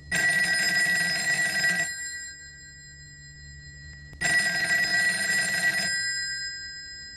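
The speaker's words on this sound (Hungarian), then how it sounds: "amikor belépek a lakásba, megszólal a telefon" A telephone bell rings as a sound effect in an audiobook, two long bursts of rapid bright ringing separated by a pause of about two seconds, loud and close, with faint room tone between.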